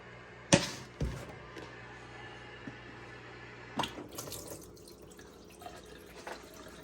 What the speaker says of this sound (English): So now I'm going to drain out the water